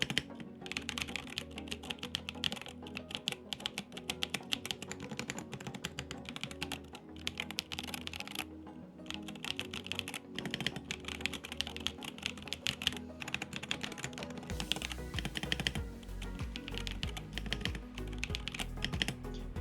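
Rapid, continuous typing on a cheap modded MUCAI MKA610 gaming keyboard from AliExpress, close and crisp keystrokes clattering in dense bursts with short pauses, growing heavier and fuller toward the end.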